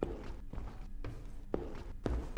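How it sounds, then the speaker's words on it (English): Footsteps in the horror video game Blame Him fall in a steady walking rhythm along a quiet hallway, each step a soft, fairly close thud with a faint ambient hum between them. "And a little bit of footsteps."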